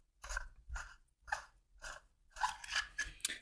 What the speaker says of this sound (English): All right, so we'll unscrew the handle.